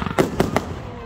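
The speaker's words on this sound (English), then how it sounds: "Keep those fireworks going, everyone!" New Year fireworks bursting over Loch Sport. Three sharp booms come in quick succession against a noisy background of crowd sound.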